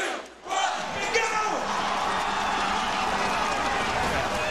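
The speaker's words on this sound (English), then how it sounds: "You heard the crowd start to get into it. They're beginning to cheer for their champion." A crowd roars and cheers at a hot dog eating contest held during a Cal men's basketball game against Washington, a loud, sustained swell of voices rising just after a brief countdown and continuing steadily.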